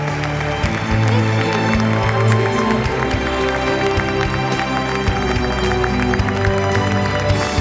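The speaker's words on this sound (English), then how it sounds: "Let's give her another round of applause, please, for all of her work and her time." Steady audience applause for Congresswoman Grace Meng at an American Israel Public Affairs Committee event, a continuous dense wash of clapping that holds at an even level throughout.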